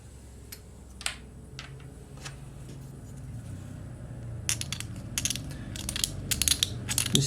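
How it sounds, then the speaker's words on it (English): A knife blade scrapes at the plastic of a Sector Mechanicus model kit in short, quiet, rasping strokes. The strokes come sparse at first, then in quicker clustered bursts toward the end. "I'm going to use a knife and try and scratch out a little bit of this plastic"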